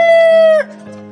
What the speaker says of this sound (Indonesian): Nah, itu suara ayamnya.